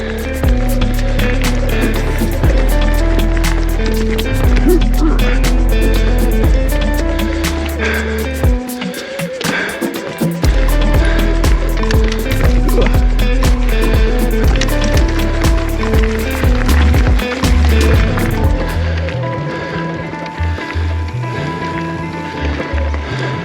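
A mountain bike rolls along a dirt trail loop in the Carlsbad area, with loud continuous tyre crunch, rattles and wind rush up close and a short quieter patch midway.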